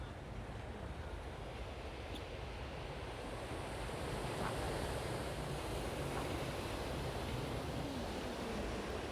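Sea waves break on the shore at Marqala in Tangier in a constant washing roar, with wind buffeting the microphone throughout and no speech.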